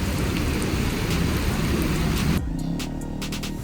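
Heavy monsoon rain pours down in Chandigarh, a dense, loud, steady hiss that fills the first two and a half seconds before dropping to a lighter wash with faint dripping and a low hum.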